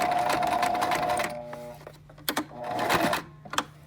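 A sewing machine stitches a seam down the side of a fabric face mask, a fast close mechanical whir in two bursts separated by a pause with light clicks.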